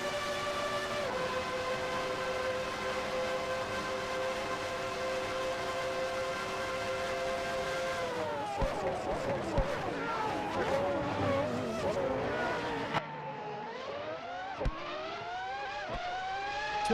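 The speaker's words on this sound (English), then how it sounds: "let's just ride on board with the McLaren on its qualifying lap here at Monza." A McLaren Formula 1 car on a qualifying lap at Monza, heard onboard: a loud, steady, high-pitched engine wail that dips and climbs again through two sharp gear changes as the revs shift.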